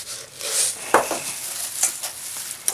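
Crab stuffing is stirred after a tablespoon of panko is added: close, soft scraping and wet, crackly mixing in short strokes, with a few sharper clicks against the bowl.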